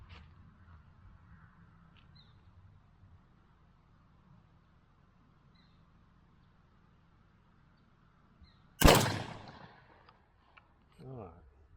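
A single rifle shot is fired while sighting in for youth turkey season outdoors. One sharp, loud crack is followed by a short decaying echo, after long quiet stretches with faint background murmur, and a brief voice comes afterward.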